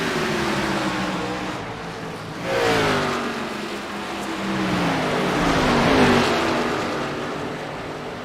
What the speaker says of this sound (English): This looks like Josh Oxendine in the 63 coming down pit road.